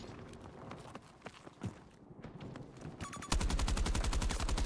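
Gunfire in the shooter game Battlefield 2042: scattered single shots and footstep-like thuds give way to a loud, rapid burst of automatic fire near the end, with no talk.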